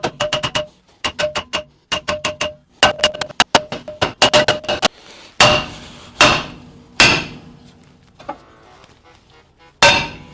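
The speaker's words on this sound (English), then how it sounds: "Let's see if this comes off easier. Give it a few whacks." A hammer whacks a rear brake drum on a 1988 car in quick bursts of sharp metallic strikes, ringing clanks close by, then several heavier single blows with pauses between.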